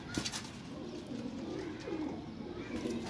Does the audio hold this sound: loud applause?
no